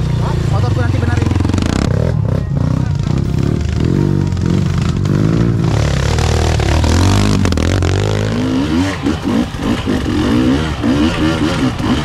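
Dirt motorcycle engines, including a Kawasaki KX, revving on a trail: loud, close, rising and falling throttle bursts with clattering over continuous engine noise, while people talk throughout.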